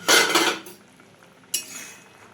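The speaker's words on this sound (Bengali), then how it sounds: "দেখুন এরপর আমি ঢাকাটা খুলে নিচ্ছি।" Metal pot lid lifted off a pot of mangoes boiled for a Bengali mango dal, giving a bright clattering clink at the start and a shorter metallic scrape about a second and a half later, close and fairly loud.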